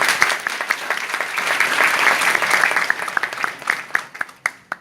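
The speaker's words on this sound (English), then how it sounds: "I think he deserves a big round of applause." An audience of civil engineers and architects applauding a speaker at a green-building talk, a steady roar of many clapping hands that thins out at the end into a few separate loud claps.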